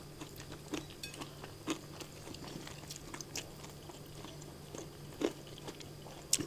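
Someone bites and chews a crispy fried battered snack at the breaking of the fast, giving faint crunches at irregular intervals over a quiet background.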